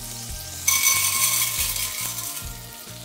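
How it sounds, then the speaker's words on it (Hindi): Corn kernels tipped into melted butter in a hot pan for popcorn hit with a sudden loud sizzle that hisses steadily and slowly fades, heard close with no talking. "ये बटर मेल्ट हो गया है, अब हम मकई के दाने इसमें डाल देते हैं"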